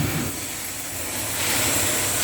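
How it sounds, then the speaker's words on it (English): A shower head spraying water to rinse out a bathtub, a steady hissing rush of water that swells slightly louder toward the end. "You'll turn the shower on"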